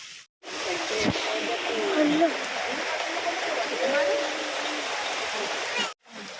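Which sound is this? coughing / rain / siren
rain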